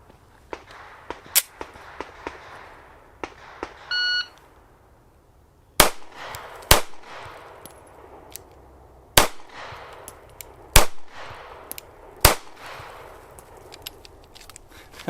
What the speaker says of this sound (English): let's put 5 more rounds with the CSX right in the middle